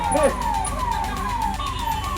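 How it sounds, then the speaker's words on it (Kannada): A wailing ambulance siren sweeps up and down repeatedly at a political protest rally. It sounds loud and continuous, over steady crowd noise. "ದಯವಿಟ್ಟು ಆಂಬುಲೆನ್ಸ್ಗೆ ಜಾಗ ಮಾಡ್ಕೊಂಡು ಅಂತ ಹೇಳ್ಬೇಕು"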